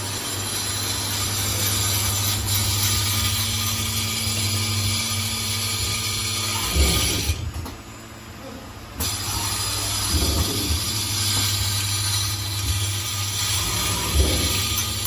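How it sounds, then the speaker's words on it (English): A SuperbMelt hollow ball diamond cutting machine, used for making gold, silver and copper balls, runs with a continuous loud mechanical drone and hum, with faint rattling and a brief dip in the noise partway through. "hollow ball diamond cutting machine."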